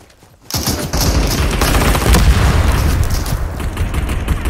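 A grenade blast followed by dense gunfire in the battle royale video game Super People: a sudden loud burst, then a continuous rattling barrage of shots and booms that stays heavy and close throughout.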